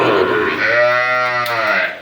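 A dairy cow lows loudly in a livestock market, one long harmonic moo rising and falling close to the recorder over background crowd noise and faint talk.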